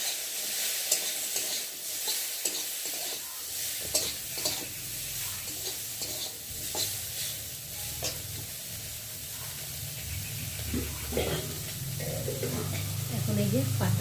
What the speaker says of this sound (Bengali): তার জন্য তেল দিয়েছি কড়াতে দিয়ে, আর এই যে মাছগুলোকে দিয়ে একে একে ভেজে নেব